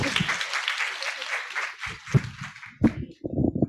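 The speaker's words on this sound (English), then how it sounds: "Can we give a round of applause to our panelists?" Applause for forum panelists on care work in ASEAN countries rises as a brief burst of clapping that fades quickly, and a voice then speaks over the tail.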